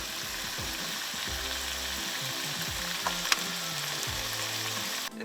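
Small deep-sea snapper frying in a pan with ginger, a steady close sizzle throughout with light stirring and scraping sounds.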